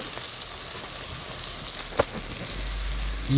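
Cabbage fries in a pan for a village-style cabbage curry, giving a steady, close, hissing sizzle with a brief clatter partway through and no talking.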